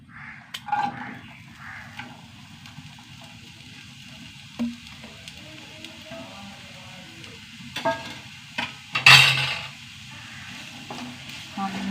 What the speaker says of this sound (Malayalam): നന്നായി വഴണ്ട് വരട്ടെ